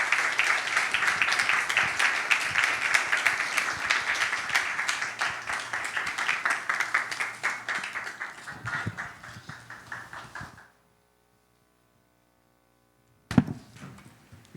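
A church congregation at a youth worship service gives a pastor a long round of loud, dense clapping. It fades and stops abruptly, followed by a few seconds of silence and a single thump.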